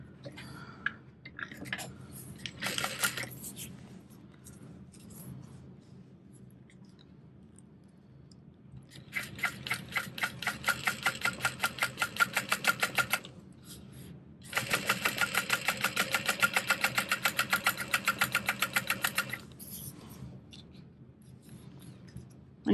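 A home sewing machine at long stitch length runs stitching a crossbody bag, with two sustained bursts of rapid rhythmic clatter separated by pauses and a few brief shorter runs, close and steady.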